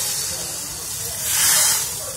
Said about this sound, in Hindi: अब हम सब्ज़ी पर इसका तड़का देते हैं।